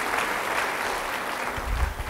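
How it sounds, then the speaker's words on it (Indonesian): Congregation clapping during an Indonesian church sermon, a short burst of dense, even applause from many people filling the room. "Beri tepuk tangan bagi dia."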